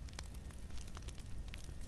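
A campfire burning in a survival video game crackles as a steady dense hiss with scattered pops, faint and continuous, with no talking over it.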